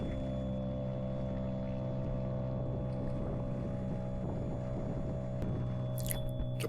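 A sailboat's engine drones steadily with a low rumble and constant tonal hum, joined by light wind noise and a few brief higher clicks near the end.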